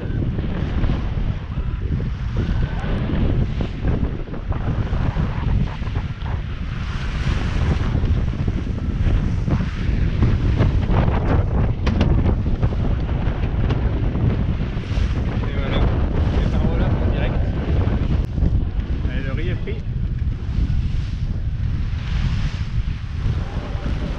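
Strong wind buffeting a Sangria sailboat at sea, with loud continuous gusts roaring across the microphone, water rushing along the hull and occasional creaks, sustained for the whole stretch without talk.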